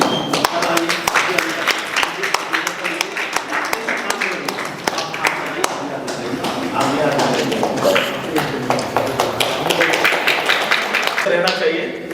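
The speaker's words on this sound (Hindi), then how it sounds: "एक बार जोरदार इनके लिए तालियां।" Loud, sustained audience applause for the directors of a stage play, dense clapping filling the whole stretch with a crowd murmur running underneath.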